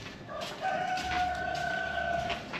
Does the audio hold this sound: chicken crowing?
yes